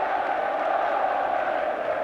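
Football crowd singing in the stands at a 1984 Second Division match between Sheffield Wednesday and Crystal Palace, a steady, distant mass of voices forming a continuous drone with no break.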